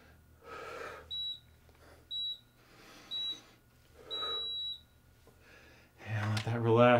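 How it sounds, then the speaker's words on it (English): Workout timer during an at-home core routine, sounding four short electronic beeps at an even rhythm amid pauses in a trainer's breathing and speech, followed by a louder burst of voice. "My timer is telling me I counted right"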